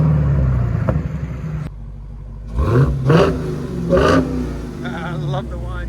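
Dodge Challenger SRT Hellcat fitted with Black Widow exhaust barks through three quick, loud revs over a low idle rumble, close by, with a voice talking briefly near the end.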